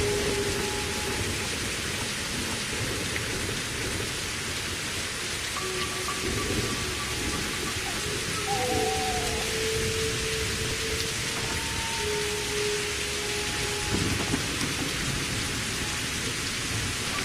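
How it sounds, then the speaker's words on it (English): Steady, heavy rain pours throughout in the post-apocalyptic survival game Survival: Postapocalypse Now, a constant dense hiss with faint low rumbling that may be distant thunder, and no talking. "And it rains quite often."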